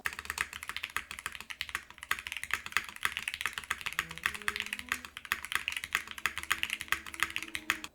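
Steady, brisk typing on a Ducky One X Mini mechanical keyboard with ABS keycaps, a continuous stream of close, clacky keystrokes with no talking.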